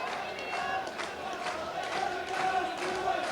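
A football stadium crowd at a 1994 FA Cup third-round tie between Stockport County and QPR roars and chants in sustained waves, heard from a distance, with a commentator talking over it.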